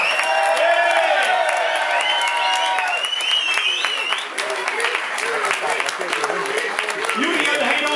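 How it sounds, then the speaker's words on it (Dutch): Applause and cheering from a crowd at a kriekencross cycling champion's celebration, dense and steady for the whole stretch, with whoops and a voice talking loudly over it. "Applaus, kom maar!"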